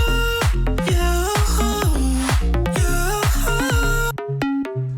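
A Serum synth bass in Ableton passes through a multi-band compressor, playing loud repeated notes with sharp downward pitch drops in a driving rhythm, heavily compressed and upfront, with a brief sparser passage near the end.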